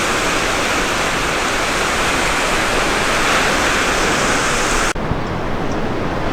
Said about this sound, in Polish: Tam jest plaża.